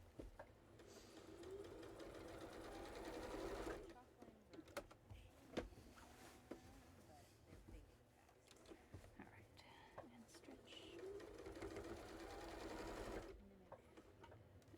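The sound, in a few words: sewing machine quilting in the ditch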